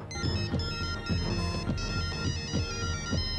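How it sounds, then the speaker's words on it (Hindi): A mobile phone ringtone plays continuously, a melodic looping tune with regular repeating notes, clear and alone with no voices. "पहले कूदो, उसके बाद फोन उठाना।"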